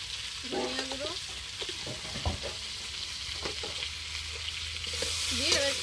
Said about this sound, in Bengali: দিয়ে আবার একটু কষিয়ে নেবো ভালো করে।